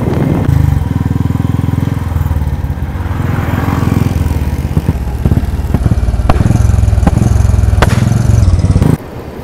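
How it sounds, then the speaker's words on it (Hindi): Motorcycle ridden with its exhaust opened up, a loud, close engine roar that rises and falls under throttle, with a few sharp pops and crackles near the end. "एक फायर शॉट खोल के देखता हूँ, अगर आवाज़ आती है तो ठीक है।"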